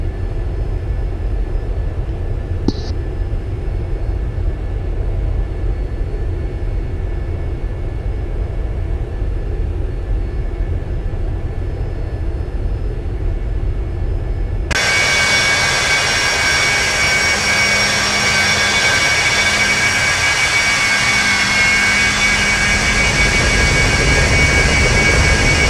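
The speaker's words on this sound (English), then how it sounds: "Turn the jet sounds up so I can actually hear them." Cessna Citation business jet engines in the X-Plane 11 flight simulator, a quiet steady whine that suddenly jumps much louder about halfway through and then holds as a loud, even roar to the end, with no talking.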